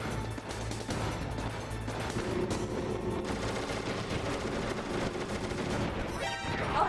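Rapid bursts of gunfire from the stealth action video game Metal Gear Solid, dense and continuous throughout, mixed with crashing impacts and game sound effects at steady loudness.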